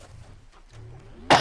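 A single sharp cough from a player during a Halo: Combat Evolved session, bursting out loud and close at the very end after a quiet stretch.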